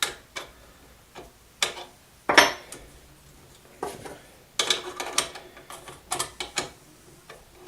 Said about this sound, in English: use the wrench to tighten it